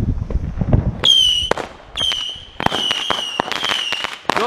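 Consumer fireworks from a July 4th backyard show shooting off in a rapid series of sharp pops and crackles, some with whistling trails, loud and close with no talk.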